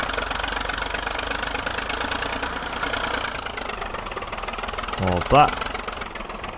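IMT 539 tractor engine running steadily while towing a car, a constant knocking drone close by, with a brief rattle and a short spoken exclamation near the end.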